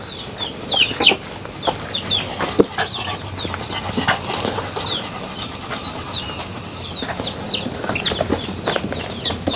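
Chickens roam a rural farmyard, clucking and squawking in short overlapping calls, some near and some farther off, over a steady outdoor background with occasional faint knocks.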